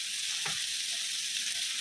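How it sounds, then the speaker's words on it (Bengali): Onions frying in a pan for an egg and poppy-seed dish, giving a steady close sizzle throughout with a brief stir partway through. "পেঁয়াজটা ভাজা হোক, পেঁয়াজটা লাল করে ভেজে নিয়েছি।"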